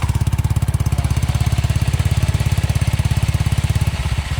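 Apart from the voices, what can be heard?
CVT motor scooter engine revving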